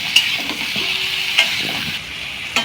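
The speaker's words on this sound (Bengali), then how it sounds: "তো তাই আমি এখানে ঝিঙ্গাগুলো অল্প ভেজে নেব।" Ridge gourd slices fry in a pan with a steady hiss, broken by a few stirring scrapes and light clinks of a spatula; close and fairly loud, no voices.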